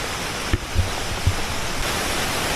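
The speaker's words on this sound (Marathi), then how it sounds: "माझ्या मागे तुम्ही बघत असाल सुंदर असा वॉटरफॉल आहे" A waterfall near the Kondana Caves roars as a steady, loud, broadband rush with a few soft thumps and no voices.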